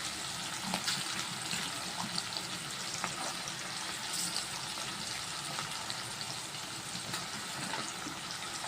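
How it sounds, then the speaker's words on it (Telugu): Onion pieces frying in a pan, a steady, even sizzling hiss that holds at a moderate level throughout with no voices. "ఉల్లిపాయ ముక్కలు కూడా వేసుకుని చక్కగా కూడా మగ్గాలన్నమాట."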